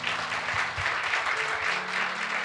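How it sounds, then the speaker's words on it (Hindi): Church congregation clapping at a service, a steady wash of hands heard at moderate distance, with faint low voices beneath. "क्यों ना प्रभु के लिए ताली बजाएं।"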